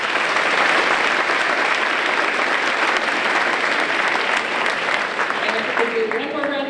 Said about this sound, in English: And if we could do one more round of applause